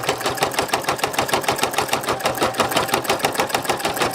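Embroidery machine stitching a small design into a leather luggage tag, a loud, fast, even needle hammering that runs continuously up close with no talk.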